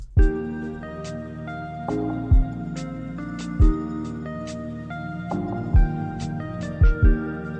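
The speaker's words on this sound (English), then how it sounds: "Give you some nice chill chords." Chill synth chords sequenced in the SoundBridge DAW, soft sustained harmonies shifting every couple of seconds with light percussive hits and bass notes underneath, moderately quiet and without voices.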